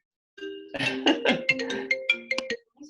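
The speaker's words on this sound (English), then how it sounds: "Hold on, incoming call there." An incoming call's phone ringtone plays on its own: a bright, melodic run of quick chiming notes lasting about two seconds, close and clear, with no talking over it.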